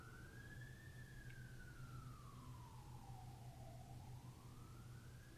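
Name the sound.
distant sirens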